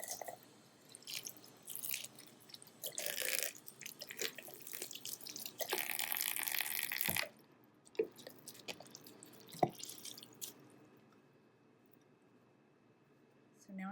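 Tap water runs into a sink while a crochet swatch is wetted, splashing and dripping in uneven bursts, then stopping, followed by a few faint drips and handling sounds near the end.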